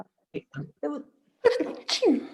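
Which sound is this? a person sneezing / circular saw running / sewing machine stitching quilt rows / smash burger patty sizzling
a person sneezing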